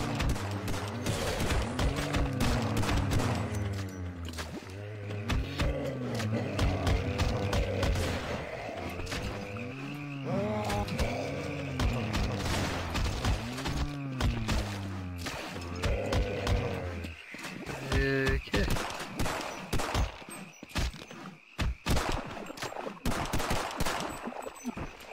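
Gunfire in the co-op shooter Sven Co-op as barnacles are shot at, with sharp bursts of shots over a sustained, tonal in-game drone and music that fades out partway, leaving scattered loud reports near the end.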